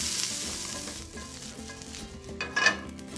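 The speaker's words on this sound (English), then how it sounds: "I'm gonna let these cook until they have softened nicely, those onions have, and have begun to brown." Sliced onions with a little sugar fry in a pan, sizzling steadily close up, with a brief clink of a utensil against the pan near the end.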